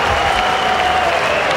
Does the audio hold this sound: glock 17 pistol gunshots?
no